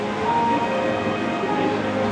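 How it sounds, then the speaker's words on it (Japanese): A model train on an exhibition layout running its final special service, a steady close rumble with faint rail clicking and a high whine, continuous throughout and with no talk. "最終列車運転中でございます。"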